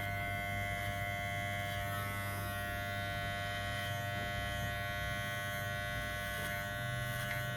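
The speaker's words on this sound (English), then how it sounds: "Always flicking the clipper away from the scalp at the point where you want to blend in to the longer length." Electric hair clipper buzzing steadily while giving a fade haircut, a close, continuous hum with slight shifts as the blade is flicked away from the scalp to blend into longer hair.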